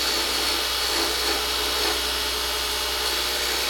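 A skew chisel cuts a pen blank spinning on a lathe, producing a steady, close hiss of shaving wood over the constant whir of the machine, with no talking.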